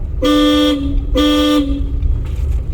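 Two loud, close car horn honks about half a second each, with engine rumble continuing underneath, during a driving lesson.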